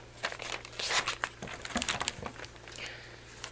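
Scissors cutting a heart shape out of a piece of paper for a sewn pin cushion, soft crinkling and snipping rustles at close range, quiet, with no voices.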